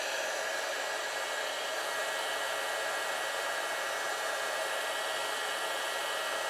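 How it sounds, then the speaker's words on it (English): A steady, close blowing whoosh of a heat gun embossing powder on a card, running continuously at constant strength, with no talking. "and then quickly emboss it with my heat gun"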